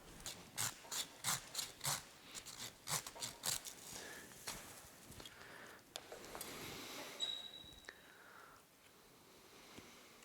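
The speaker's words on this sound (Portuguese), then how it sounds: "tem um outro galhão aqui que eu vou ter que tirar com o serrote" A hand saw cuts through a large juniper bonsai branch in quick, rhythmic back-and-forth strokes close to the microphone. The strokes then give way to slower, quieter scraping and rubbing on the wood.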